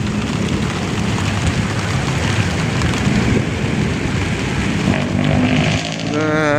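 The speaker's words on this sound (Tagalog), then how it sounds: "And lumakas ang ulan guys, lumakas ang ulan." Heavy rain pours steadily onto concrete pavement at the Esplanade by the Pasig River, a loud, dense, unbroken hiss close by, with a voice briefly heard near the end.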